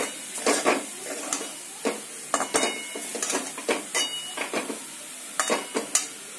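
Carrot and pea paratha stuffing is stirred in a pan, with a spatula scraping and clinking in irregular repeated strokes over a faint background sizzle; no one speaks.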